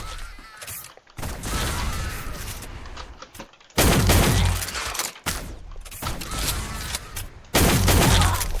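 Gunfire in the egg-themed shooter game Shell Shockers comes as loud, dense bursts of rapid shots that cut in and out abruptly in repeated volleys.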